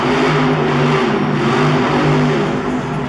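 Monster truck 4x4 Thunder spinning a donut at a Monster Jam freestyle event in St. Louis, its engine roaring loud and steady with a sustained, throbbing drone throughout.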